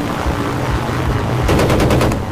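An anti-aircraft gun firing in Battlefield 1943, a World War II video game, heard as a rapid, loud string of about eight close shots near the end, following a low rumbling background.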